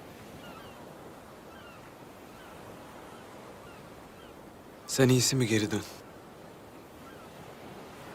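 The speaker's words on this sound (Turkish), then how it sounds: "duymuyor musun dalga seslerini?" Sea waves crash below a cliff in a steady, rushing surf wash heard at a distance, briefly overlaid by a man's short spoken line.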